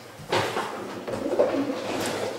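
Pigeons in a loft give soft, low cooing calls in several short bursts, close by and fairly quiet, with faint rustling behind them.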